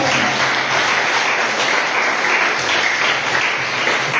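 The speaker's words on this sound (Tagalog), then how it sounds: "Church, libre ang pumalakpak." A church congregation applauding together, steady dense clapping filling the room at close range without pause, loud and continuous with no voices standing out.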